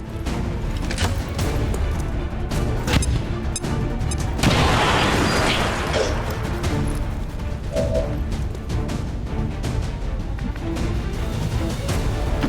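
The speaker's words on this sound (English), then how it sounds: "We'll start with the standard opening, which is hitting both of the enemies with a grenade." A grenade blast in XCOM 2 erupts partway through a loud, busy stretch of tactical combat, a broad crashing burst amid ongoing game sounds with no talking.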